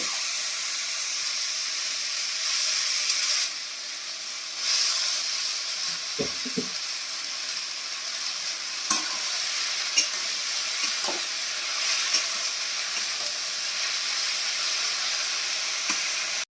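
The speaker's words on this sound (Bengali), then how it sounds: "কাঁচা লঙ্কা, শুকনো লঙ্কা, কালো জিরে আর কি রসুন ভালো করে ভাজি করে" Green chillies, dry red chillies, nigella seeds and garlic fry in hot oil with a constant soft sizzle, broken by a few scrapes and stirring clinks, and nobody talks over it.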